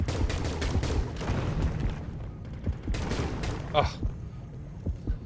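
Rapid gunfire in the underwater shark-hunting game Depth, bursts of sharp shots and booming impacts in dense succession, loud and close, with a player's voice mixed in.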